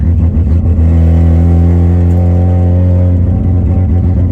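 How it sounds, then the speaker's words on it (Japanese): A Mazda RX-7 rotary engine idles and revs steadily nearby, a loud, buzzy drone with no talking. "いい音だ。 いいRX-7だ。"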